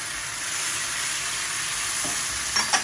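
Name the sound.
stirring Pad Thai sauce in a pan, adding vinegar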